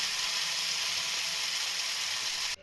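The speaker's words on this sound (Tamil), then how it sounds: "பொறுமையாக கொஞ்சம் கொஞ்சமாக ஒரு ஒரு சைடாக திருப்பி திருப்பி வறுத்துக்கிட்டு இருக்கேன்" A large mullet sizzles loudly as it fries on a hot stone, a dense, even crackle that holds unbroken and then stops abruptly near the end.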